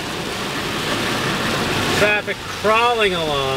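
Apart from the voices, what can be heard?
heavy rain on a highway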